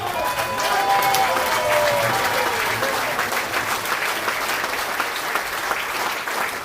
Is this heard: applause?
yes